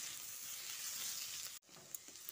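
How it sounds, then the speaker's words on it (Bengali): Ginger paste and slit green chillies frying in a pan for a Bengali drumstick curry, a steady close hiss of sizzling oil that cuts out briefly near the end, then resumes. "আদা ও কাঁচা লঙ্কাটা দিয়ে আরও খানিকক্ষণ ভেজে নিতে হবে"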